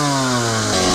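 A Honda CR125 two-stroke dirt bike engine runs steadily at a high-pitched idle, close and loud, with a buzzy tone that rises slightly near the end and no voices.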